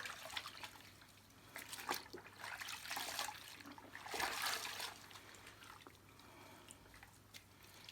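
Cleaning cloths are soaked in water while refurbishing a Hoover Portable Model 2106, giving faint trickling, dripping and sloshing sounds in uneven bursts, quiet and close, with no talk.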